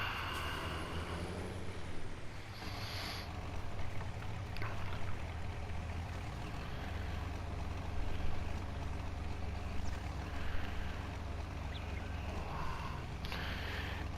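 A tractor engine from the Farming Simulator 19 game drones at a steady low pitch, rising in pitch and load partway through as the machine strains for forward motion, with no talk over it.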